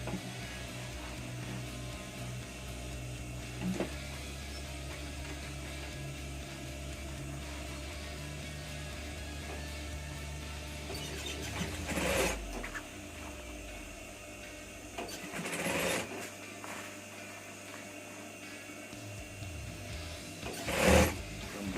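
A sewing machine stitches a folded rib cuff onto a fully lined jacket, a steady mechanical whir with pitch shifts and pauses, marked by several sharper clunks as the fabric is adjusted.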